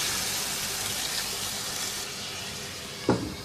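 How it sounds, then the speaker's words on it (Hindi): Water pours into a pan of cauliflower and beef curry, steady sizzling and bubbling hiss running throughout, with a brief louder splash near the end. "पानी शामिल करेंगे हस्बे ज़रूरत।"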